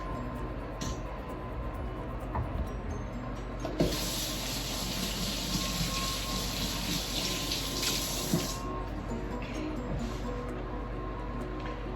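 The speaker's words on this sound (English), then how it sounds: "Wash my hands." Hands washed under a running kitchen tap after cutting pork belly, a steady close stream of water hissing into a sink, with a brief stronger gush midway and faint clatter around it.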